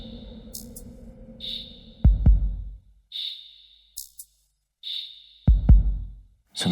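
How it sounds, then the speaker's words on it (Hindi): Heartbeat sound effect in a Hindi TV drama scene, two deep double thumps spaced a few seconds apart over a quiet tonal background, with sustained synthetic tones between beats. "अपने दिल की धड़कनों को महसूस करो"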